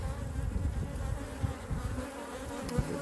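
Honey bees buzz steadily around a hive whose colony was recently moved, a dense low hum with no speech over it.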